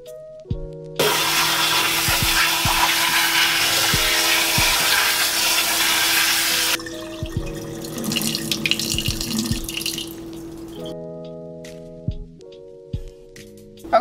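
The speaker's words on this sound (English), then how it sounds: "Now I'm going to go ahead and rinse these off." A kitchen tap runs loud and steady into a sink while chopped vegetables are rinsed, the flow rushing strongly before easing to a lighter trickle, with faint clinks and no talking.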